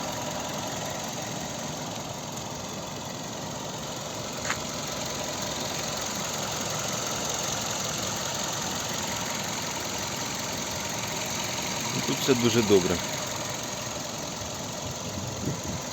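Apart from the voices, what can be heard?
Kia Ceed 1.6 petrol engine idling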